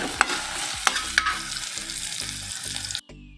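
Sliced okra roasting in a hot pan, with sizzling and repeated scraping stirs of a spatula, a few sharper clinks early on, close and steady before the sound drops away abruptly near the end.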